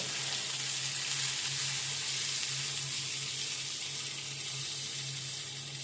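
Long-sliced onions fry in a hot spice tempering, giving a close, continuous, even sizzle with soft stirring and a low steady hum beneath.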